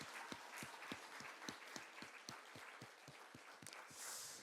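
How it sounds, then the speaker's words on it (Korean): Congregation clapping during a Sunday church service, a slow steady rhythm of roughly sixteen sharp claps, fairly faint and distant in an echoing hall. "축복의 박수 함께 나눌게요"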